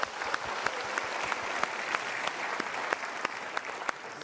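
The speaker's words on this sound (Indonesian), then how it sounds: "kita berikan tepuk tangan untuk beliau." Audience applause at a Mario Teguh seminar talk, a steady, fairly faint patter of many hands clapping for a few seconds with sharper individual claps standing out.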